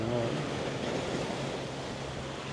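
Strong wind buffets the microphone at a seaside restaurant in Bang Pu near Bangkok, a continuous low roar with surf-like rushing and no clear breaks across the short stretch.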